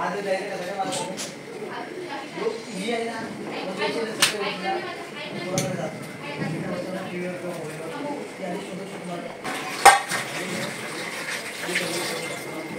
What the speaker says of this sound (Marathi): झाऱ्यामध्ये मी पूर्ण त्याचं पाणी काढून घेते